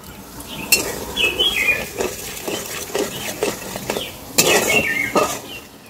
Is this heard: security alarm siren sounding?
no